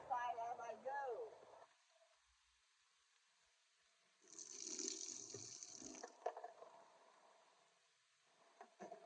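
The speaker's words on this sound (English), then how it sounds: "starting with pouring out the water" Water pours out of a refrigerator cooler in a steady splashing, hissing stream lasting a couple of seconds, fairly close, after a brief moment of voice and a quiet pause, with faint clinks afterward.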